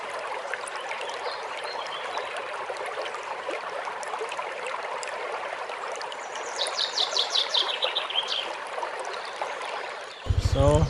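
Crystal-clear water flows at Taibo Cold Spring beside a swimming pool in Cebu, a steady rushing trickle with bird chirps breaking in, then a sudden loud low rumble near the end.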